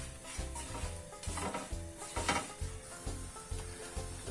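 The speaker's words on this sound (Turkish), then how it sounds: "karıştırmaya devam ediyoruz zeytinyağı ile birlikte kurutan ekmeğimizi" Dried bread toasting in a pan with olive oil, stirred in a steady rhythm of scrapes over a continuous gentle sizzle, fairly close and moderate in level.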